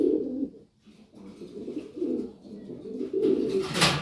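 Pigeons in a breeding loft coo in low, throaty, repeated phrases, several birds close by calling over one another with short pauses, and a brief rustle near the end.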